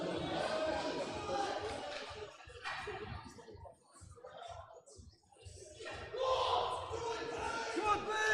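A crowd cheers and shouts encouragement at the British Juniors powerlifting championships as a junior lifter attempts a deadlift, a noisy indoor hubbub that dips briefly before swelling again, with a commentator talking over it.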